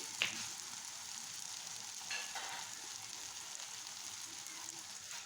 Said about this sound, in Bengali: এখন নেড়ে চেড়ে পেঁয়াজটাকে ভেজে নিব।